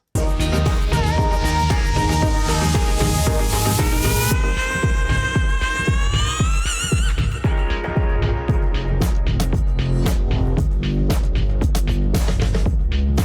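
A loud electronic music passage with a synth bass pumping rhythmically against steady drums, layered with bright sustained synth tones.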